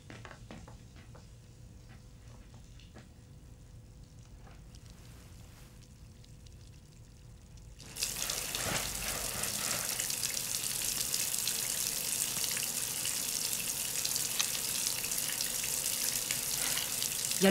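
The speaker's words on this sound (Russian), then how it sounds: "Я воду выключу в ванной." A bathroom tap runs water. A quiet room hum gives way halfway through to a loud, steady rushing hiss of flowing water that continues without voices.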